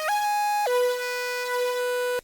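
A repetitive synth lead from a beat, its bright, buzzy tone sliding between a few held pitches with quick glides, ringing loud and alone before cutting off abruptly at the end.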